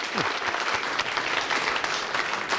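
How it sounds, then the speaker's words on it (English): Applause from an auction room crowd after a sale closes, a brisk, dense burst of clapping of moderate loudness running steadily throughout. "Give them a round of applause."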